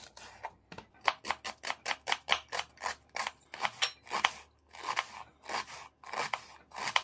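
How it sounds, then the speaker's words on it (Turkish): A knife chopping onion on a board for a Turkish eggplant menemen, a quick series of sharp, evenly spaced cuts up close with brief pauses, no talking. "Soğan doğrayalım."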